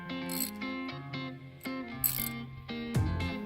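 Hand ratchet backing out a 13mm screw on a Dodge Ram, a series of close metallic clicking strokes in uneven bursts with no talking.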